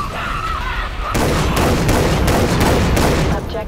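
A shotgun in Far Cry 3: Blood Dragon fires in a rapid string of loud, close blasts that follow a brief quieter stretch of game sound, each shot cracking sharply over dense in-game noise.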